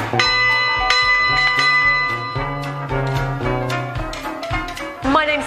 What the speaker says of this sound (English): So it's down to you to ring the bell.